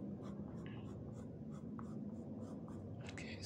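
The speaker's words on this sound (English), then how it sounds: "I kind of like working with black pencil." Black pencil scratching and shading across drawing paper, a steady run of short strokes at close range with a constant low room rumble underneath.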